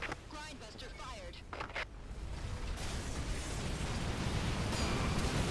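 Explosion in the video game EDF 4.1: a broad roaring blast that swells and sustains loudly after brief talk at the start, filling the rest with rumbling noise.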